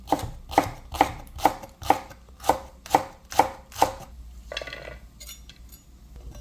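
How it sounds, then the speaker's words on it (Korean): Green onion being finely sliced with a knife on a cutting board for stir-fried silkworm pupa, about nine crisp, evenly spaced chops close up, then softer scraping and clinking. "고추하고 파 조금 썰어서 넣을게요 파는 송송 썰어주세요"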